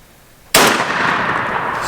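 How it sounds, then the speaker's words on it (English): A single loud shotgun blast fired at a turkey during a youth hunt, a sudden sharp report followed by a long rolling echo outdoors. "whenever you want, go ahead and shoot him."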